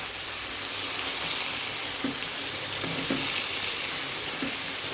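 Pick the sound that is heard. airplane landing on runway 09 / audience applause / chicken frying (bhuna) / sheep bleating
chicken frying (bhuna)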